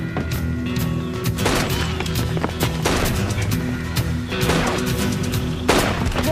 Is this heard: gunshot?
yes